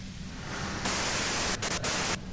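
Loud white-noise static from a radio in the game Disco Elysium, a dense hiss that jumps to full strength partway through, stutters briefly, then drops back down.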